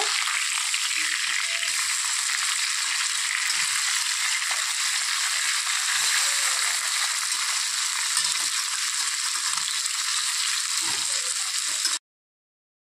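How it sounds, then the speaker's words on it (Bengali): Cut potatoes fry in hot oil in a wok left from frying a fish head, producing a steady, bright sizzle with light crackles and occasional stirring, with no voices. "তো এখন ওই তেলের মধ্যে আমি কেটে রাখা আলু ভেজে নিচ্ছি"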